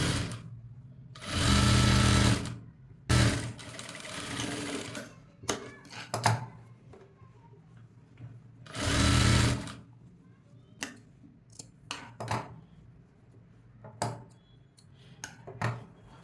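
A sewing machine stitches a cutwork designer blouse in two long, loud continuous runs of motor whir, separated by quieter stretches of scattered clicks and handling noises.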